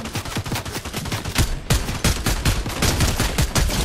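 Sustained automatic gunfire from a weapon in Fortnite, played on controller, hammers out in rapid, loud, closely spaced shots for several seconds with a brief break midway.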